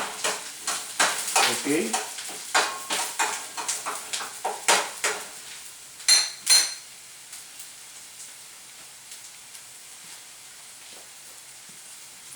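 Onions and garlic sautéing in a pan, a spatula stirring and scraping in quick repeated strokes over a soft sizzle, a couple of louder clanks, then the sizzle fades to quiet; a voice briefly speaks.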